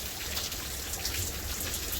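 Rain pattering steadily on a parked car's roof and windows, heard from inside as a dense, even hiss of drops with soft scattered taps and no voices.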